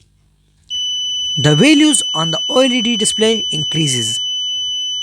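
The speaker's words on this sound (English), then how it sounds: "the buzzer immediately activates" An MQ-2 smoke sensor on an Arduino circuit triggers its buzzer: a steady, piercing electronic tone starts abruptly and holds unbroken while a person narrates over it.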